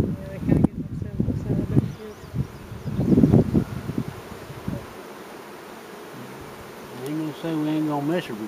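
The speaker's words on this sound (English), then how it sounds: "You start shaking all these bees." Honey bees shaken from a hive frame into a nuc box during queen cell starter setup, a dense close buzzing swarm that rises and falls in bursts, with brief faint voices in the background.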